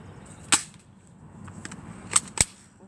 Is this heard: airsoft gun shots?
yes